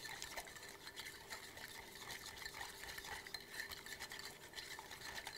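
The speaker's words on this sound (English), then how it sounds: "We're gonna whisk that around." A whisk swirls wonton dumpling sauce made with sesame seed oil in a small bowl, a quiet, rapid swishing and light tapping against the sides that runs continuously.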